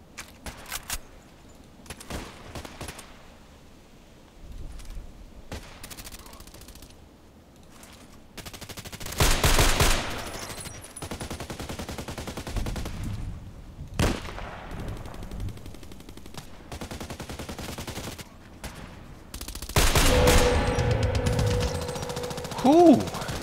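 Gunfire rings out in a first-person sniper video game: scattered single shots, then loud rapid bursts around the middle and again near the end, close and sharp, with brief quiet gaps between volleys.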